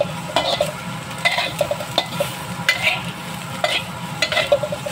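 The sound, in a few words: chilies toasting and being stirred in a pan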